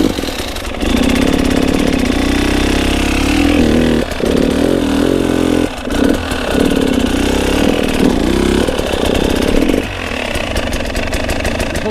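A motorcycle engine revs in short bursts during a pivot turn, with throttle blips and dips as the clutch is worked, loud and close throughout.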